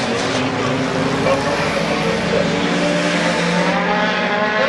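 Modified race cars roaring across the finish line at Midvale Speedway during a night of destruction event, a loud sustained engine drone with shifting pitch from nearby cars, under crowd and track ambience.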